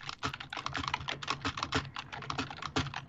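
Rapid, uneven clicking of a computer keyboard being typed on, close and fairly quiet, with bursts of keystrokes and brief pauses, no talking.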